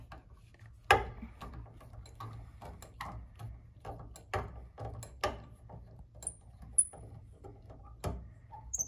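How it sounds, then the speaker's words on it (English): Plate screws being removed at the front of a Steinway piano: a quiet series of irregular ticks, creaks and small wooden knocks from tools turning screws, heard close with a low steady hum underneath. "Now, at the front of the piano, I remove the plate screws."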